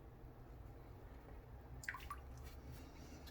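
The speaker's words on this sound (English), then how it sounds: "I'll go ahead and wring it out of the tap water" Tap water drips faintly from a wooden-handled El Druida Turn N Shave V3 shaving brush after it is wrung out, a few soft drops in a quick cluster against a quiet background hiss.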